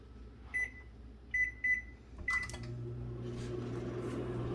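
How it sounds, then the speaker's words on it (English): Three or four short electronic beeps from a keypad, then a steady low hum as an appliance starts running nearby. "we're just going to throw it in the microwave"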